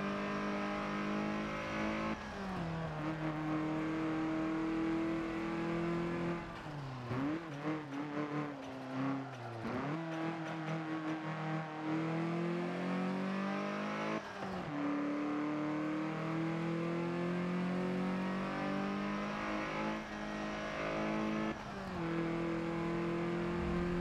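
Stock car engine in Forza Motorsport 7 revving through repeated gear changes, a steady loud drone rising and falling in pitch, with a brief lift and stutter midway before climbing again.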